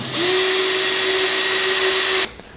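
A power driver unscrews Phillips-head screws from the shipping brackets that hold a Red Bull cooler to a wooden skid. It makes one steady, close, loud whine that ramps up quickly, holds for about two seconds and then stops.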